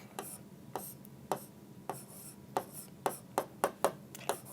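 Chalk or marker strokes during a physics lesson on Newton's second law, a series of about a dozen short, sharp taps and scrapes in an uneven rhythm, fairly close and moderately quiet with no talking.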